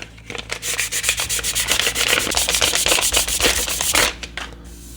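A rough sanding stick rubs back and forth across a plastic Enterprise model kit part, making a close, steady run of scratchy strokes that continues for several seconds before stopping.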